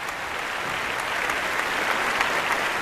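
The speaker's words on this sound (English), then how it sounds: "How about a big round of applause for all those people doing a great job for us?" Steady, full applause from a live show audience for the stage and lighting crew, an even wash of many hands clapping at close range without a break.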